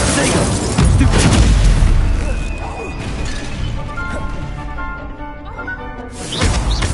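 An Incendio fire spell cast in the game Hogwarts Legacy lands with heavy booming, crashing blasts and a fiery roar. Speech and combat effects mix in, and the impacts fade before another burst.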